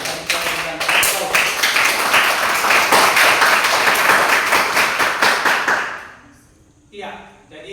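An audience at a Catholic school class session claps in sustained, dense applause that fills the room for several seconds, then fades to quiet with a faint voice near the end.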